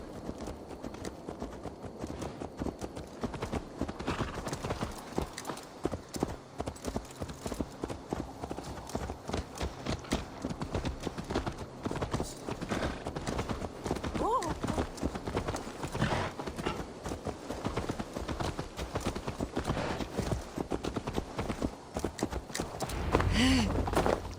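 A horse's hooves clip-clop steadily in the video game Assassin's Creed Valhalla, a continuous rhythmic trot with a dense, full background of game ambience and occasional faint voices.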